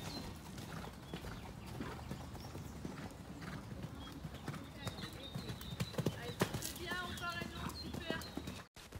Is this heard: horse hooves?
yes